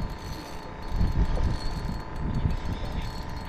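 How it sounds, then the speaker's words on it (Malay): Strong wind blows at a river estuary where people are fishing, a rough, low buffeting that rises and falls against the microphone and fills the clip without any talking. "angin kuat ni"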